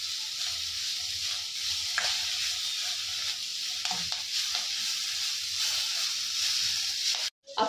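Cluster beans and coriander sauté in a hot pan with a steady, close sizzle, broken by occasional scrapes and knocks of stirring, then a brief sharp drop near the end.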